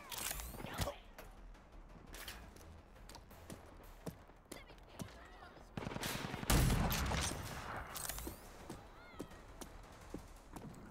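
Gunfire in the RAGE 2 video game: rapid bursts and single loud shots crack through a busy combat mix, with a dense, louder volley partway through and scattered shots continuing to the end.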